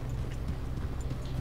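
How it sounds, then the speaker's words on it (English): Horse hooves clip-clop at a steady walking pace in Red Dead Redemption 2, close and fairly quiet, with a low rumbling background bed and no speech. "Now that's a well-bred horse you got there."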